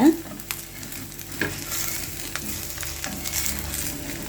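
Dosa batter crisps on a stone griddle with a steady, fine sizzle and crackle, close and moderate in volume, with a few small scraping clicks of a spatula and no talking.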